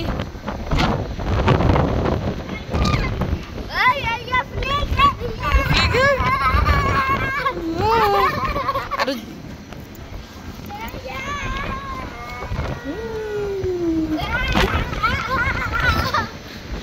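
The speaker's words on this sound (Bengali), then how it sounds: "এখানে এতটাই বাতাস" Strong wind buffets the microphone in loud, rumbling gusts throughout while people, including a child, talk and call out over it.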